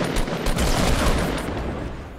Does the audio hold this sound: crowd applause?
no